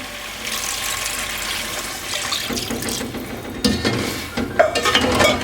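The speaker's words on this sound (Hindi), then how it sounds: "अब मैं पानी डालने लगी हूँ।" A steady stream of water pours into a pot of browned chicken for pilaf, rushing continuously, with a few clinks and a brief sizzle near the end.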